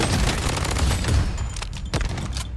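Rapid automatic gunfire in the shooter game Blood Strike, dense bursts of shots crackling continuously at close range, loud and busy with a brief gap before firing resumes.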